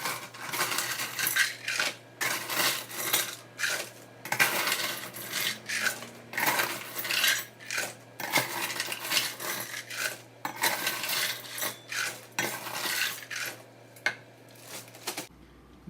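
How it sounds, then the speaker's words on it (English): Ice cubes with salt are stirred and tumbled in a bag or container, a series of close, rattling, crunchy clatters in uneven bursts with short gaps between them, no talking. "Now let's add our salt to the mixture. And we're going to mix it up real nice"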